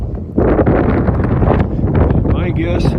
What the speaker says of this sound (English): You can hear the wind blow